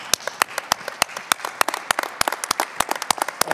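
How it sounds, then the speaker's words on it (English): Scattered applause rises from a smallish audience at a university arena dedication, with distinct, close individual claps in an irregular rhythm rather than a dense roar. "Please, a round of applause and standing ovation."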